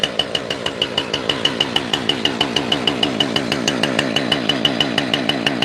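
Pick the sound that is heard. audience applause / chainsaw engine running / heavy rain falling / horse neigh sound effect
chainsaw engine running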